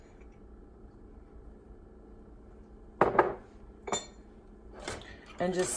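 A spoon mixes homemade celery powder into a cream soup base, making a few sharp clinks and scrapes against the pot after a quiet stretch, while a voice speaks briefly.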